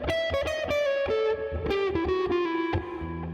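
A distorted electric guitar plays a quick blues lick, chromatic notes filling the space and stepping down in a steady run, clear and close with no talking.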